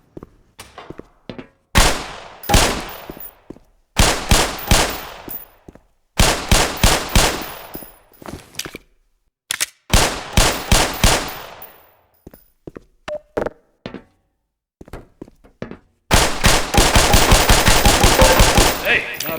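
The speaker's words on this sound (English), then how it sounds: "Put 7 rounds in the center ring of each target." Pistol shots fired at shooting range targets in the Black Mesa video game, loud and close in quick bursts of several rounds each, separated by short pauses, ending in a rapid continuous volley.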